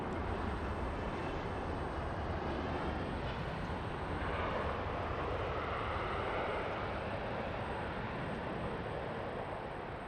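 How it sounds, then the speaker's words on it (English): A JetBlue airliner passes at Los Angeles, a steady, dense broadband roar that holds evenly for the full stretch, fairly loud and with no voices over it. "There goes JetBlue."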